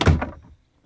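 Glove box lid of a 1987 Isuzu Piazza Turbo opening or shutting inside the cabin, a short close thunk followed by a softer second knock, then quiet.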